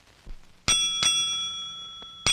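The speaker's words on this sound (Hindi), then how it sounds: "घंटी तो ऐसे बजाई जैसे चारों तरफ मरीज ही मरीज हो" A clinic's hand bell rung by a nurse, two bright ringing strikes close together followed by a long sustained ring, plus a fainter tap near the end, with no talk.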